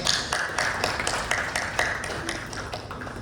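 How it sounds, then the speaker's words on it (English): Scattered audience clapping at a company gathering, a loose burst of individual claps at moderate distance that gradually thins out, with no talk over it. "Big round of applause to you"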